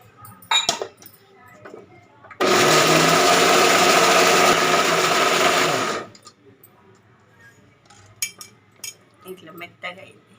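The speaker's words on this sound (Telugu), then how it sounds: "ఇడ్లీ పిండి మిక్సీకి పట్టేసాను." A kitchen mixer grinder grinds soaked idli batter for carrot idli in a single loud, steady whir lasting about three and a half seconds, with scattered clinks and handling sounds around it.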